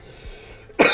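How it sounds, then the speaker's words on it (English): A single sharp cough bursts out near the end after a quiet stretch, close and loud. "That's just me coughing."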